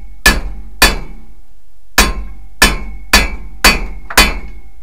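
Hammer striking a socket to seat a U-joint into a vehicle drive shaft, seven sharp metallic taps at irregular intervals, loud and close with ringing decay.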